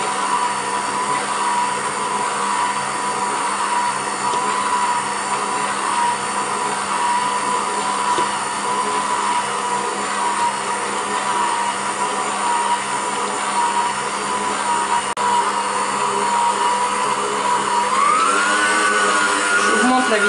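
Stand mixer whisking egg white and sugar for almond and hazelnut nougat at low speed, a steady loud whirring hum with a rising pitch sweep near the end.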